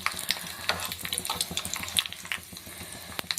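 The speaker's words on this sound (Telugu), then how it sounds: "ఆవాలు, జీలకర్ర వేసుకొని ఫ్రై చేసుకుందామండి. ఇందులో ఎండుమిర్చి వేసుకొని ఫ్రై చేసుకోవాలండి." Mustard seeds, cumin, urad dal and dried red chillies fry in hot oil, making a close, busy sizzle full of quick crackles and pops.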